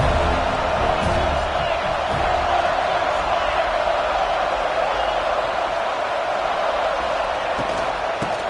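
A stadium crowd roars throughout a football game during a big third-down play, a dense and continuous wash of cheering that stays loud and steady, with a commentator's voice faintly beneath it.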